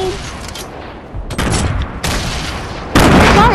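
Grenade explosions in Fortnite, several loud booming blasts and bursts of gunfire-like noise arriving in separate surges, the last one the loudest, with faint voices in the background.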